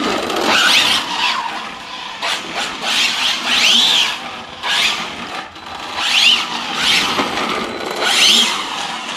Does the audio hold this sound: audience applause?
no